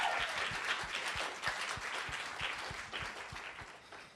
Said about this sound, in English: Let's give another round of applause to all of our finalists, our presenters, and my wonderful co-host, Lizzie.